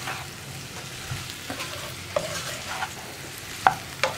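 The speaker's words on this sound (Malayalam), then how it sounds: "വഴുതനങ്ങയിലേക്കൊക്കെ നന്നായിട്ട് ഈ മസാല ഒന്ന് പിടിച്ചു വരട്ടെ. അതുവരെ ഇളക്കി കൊടുക്കുക." Brinjal and potato stir-fry with masala is stirred in a pan: a low steady sizzle broken by spatula scrapes and knocks against the pan, growing sharper toward the end, close up and alone.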